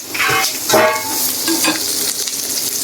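Garlic cloves fry in hot tempering oil, crackling and sizzling steadily up close with bursts of spattering and light stirring.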